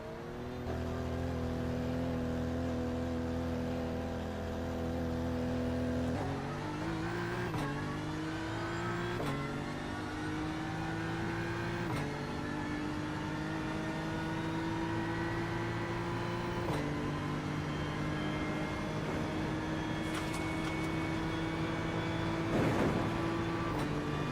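Race cars in a racing video game at Monza hold a steady engine drone throughout, climbing in pitch through a series of gear shifts, with no talk over it.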